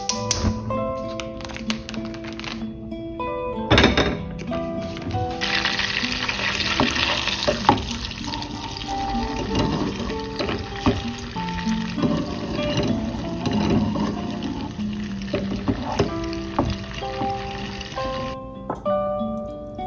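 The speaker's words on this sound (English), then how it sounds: "So I'm gonna be attempting to make browned butter for this recipe." Butter browning in a pan crackles and sizzles steadily for nearly twenty seconds, with occasional stirring taps, over soft background music.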